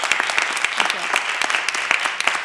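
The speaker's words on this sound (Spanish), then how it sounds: "Le damos otro aplausito" A small audience at a Women's Day event at an environmental sciences faculty gives a short, lively burst of applause, close and fairly loud, with individual sharp claps standing out in an uneven rhythm.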